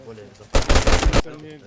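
A short, loud burst of rapid gunfire in the video game DayZ cuts in between stretches of someone talking.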